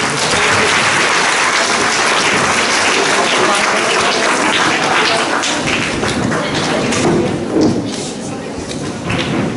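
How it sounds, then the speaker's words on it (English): Audience applause at an inter-class elocution event for middle school students, filling the hall with sustained, dense clapping that holds steady and loud throughout, tapering only slightly near the end. "A big round of applause for them."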